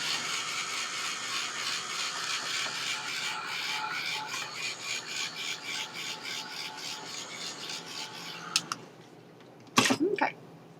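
A heat tool blows a steady, slightly pulsing whir while drying stamped ink on a craft project. It runs for about nine seconds, then stops, followed by a couple of brief handling knocks.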